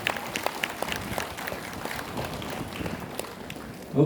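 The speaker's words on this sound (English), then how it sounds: "with a big round of applause, a big thank you to all the teachers who brought you here today" An audience at a science talk claps for teachers, a modest patter of many hands that starts at once and stays steady, fairly distant, and ends with a voice starting up.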